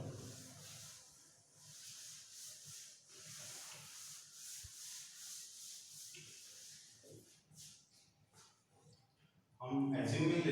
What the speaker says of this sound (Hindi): ऊपर मैं रब कर देता हूँ पूरा क्वेश्चन।